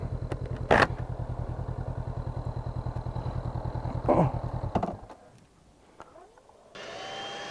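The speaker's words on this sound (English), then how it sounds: "you can actually hear the fan now for the first time in history" A 2019 Honda CB500X motorcycle idles with a steady rapid chug and whirring cooling fan noise, a couple of clunks, then drops to quieter hum before a whir resumes.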